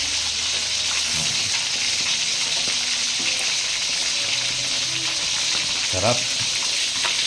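Tilapia frying in a pan, a steady loud sizzle that runs throughout, with occasional stirring clinks and a brief voice.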